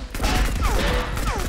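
Gunfire from the video game Marauders, a dense, loud, continuous burst of automatic shots filling the whole moment with no talking over it.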